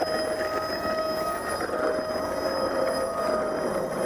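An electric ducted fan thrust tube runs at full throttle while dragging on concrete, producing a loud, continuous high-pitched whine with steady tonal overtones and a grinding rush, with no talking.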